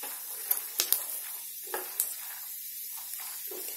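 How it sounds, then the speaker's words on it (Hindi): Peanuts roasting in a pan over a low gas flame give a soft, steady sizzle and hiss, broken by scattered light pops and crackles, with no one speaking. "इसको देखिए मूंगफलियां भुन गई है इसमें आवाज भी आना शुरू हो गई है"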